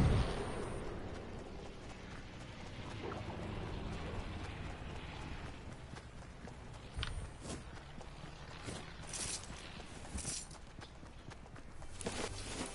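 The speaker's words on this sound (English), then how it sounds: "Do you hear a bunch of explosions?" A busy stretch of Fortnite action with repeated explosion bursts and crackling impacts, some sharp and loud, over a continuous rumbling background.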